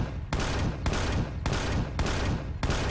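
Five rapid bursts of gunfire in the video game Empyrion: Galactic Survival, each a loud sharp volley with a short decaying tail, evenly spaced about half a second apart.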